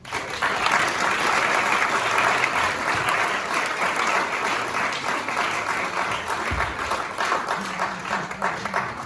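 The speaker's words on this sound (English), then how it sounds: "please give a round of applause to him" A room full of people at an army band presentation claps steadily, a sustained burst of applause close by that carries on for several seconds.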